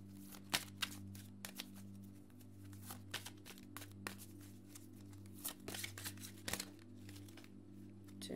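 Oracle cards being shuffled at close range, a steady run of soft riffling and slapping card sounds with sharper clacks, over a low constant hum in a quiet room, with no talking.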